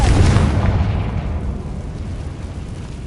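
Confringo spell explosion in Hogwarts Legacy, one loud close blast with a deep booming rumble that slowly fades out.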